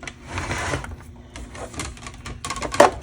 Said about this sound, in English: let me pull my cut and emboss machine over here